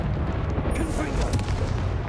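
Confringo fire spell explosions in the video game Hogwarts Legacy, heard as a dense, continuous broadband rumble of booms and blasts that stays loud and steady throughout.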